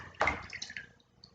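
Water drips and trickles from a wad of soaked shredded paper, one close splashy drop followed by a few fainter patters, quiet and brief.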